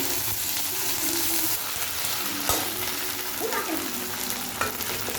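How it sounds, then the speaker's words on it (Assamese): Ginger-garlic paste fries with onions in a pan for chicken curry, giving a continuous close sizzle broken by a few stirring scrapes and clinks of the utensil. "আদা নহৰু পেষ্টখিনি আমি এনেকৈ পিঁয়াজখিনিৰ লগত ধুনীয়াকৈ ভাজি ল'ম"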